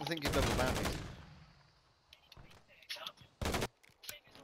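Call of Duty gunfire: a loud opening burst of rapid shots that fades, then scattered shorter bursts and single cracks, with quiet voices murmuring between them.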